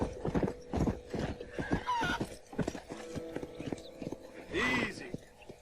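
Horse hooves clip-clop in a steady rhythm in the video game Red Dead Redemption, and a loud neigh rises near the end, with someone talking over the sounds.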